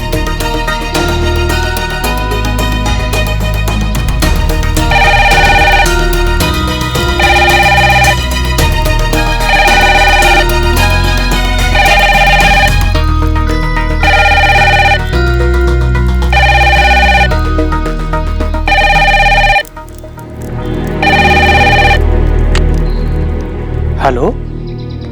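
A telephone rings on with no answer, a loud repeating ring in regular bursts over background music, which stops near the end.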